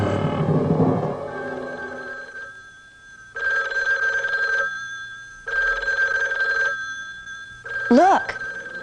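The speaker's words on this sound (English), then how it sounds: "It's ringing now, sir." A telephone rings in repeated bursts with pauses between, preceded by a voice and followed by a short squeaky sound.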